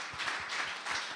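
Church congregation applauding during a worship service, a short dense wash of steady clapping that carries on evenly without a break.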